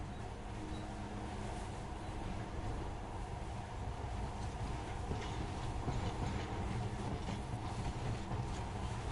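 A monorail train in a video game runs steadily, with a continuous rumbling roll and faint rhythmic clicking that stays even and moderately loud throughout, with no voices.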